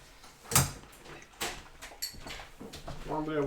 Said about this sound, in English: One day I will grab a glass without opening the wrong cupboard first.